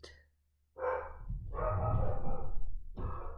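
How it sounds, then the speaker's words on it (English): A dog gives an unusual drawn-out growling bark, a short sound followed by a longer groaning vocalisation and another brief outburst, close up. "New dog sound unlocked."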